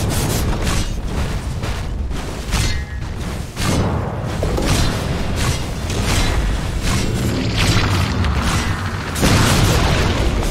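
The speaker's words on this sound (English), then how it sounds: "Radiant's middle tower has fallen." A Radiant middle tower collapses in a Dota 2 match, heard as dense, continuous game noise with repeated heavy booms and crunching impacts, loud and busy throughout with no pauses.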